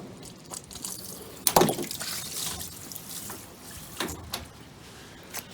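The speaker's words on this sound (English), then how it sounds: "the tank itself is filling up from the bottom" Water runs through a hose reel into a van's cleaning tank, filling it from the bottom, with a trickling, gurgling flow, a sharp splash burst early on and a few small knocks, fairly close and moderate.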